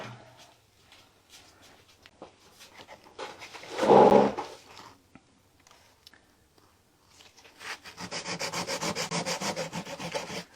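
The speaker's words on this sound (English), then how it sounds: "That was me using very fine grit sandpaper." Furniture being sanded by hand with very fine grit sandpaper, quiet soft rubbing strokes, including a brief louder scrub midway and a steadier stretch of rapid scraping near the end, no voices.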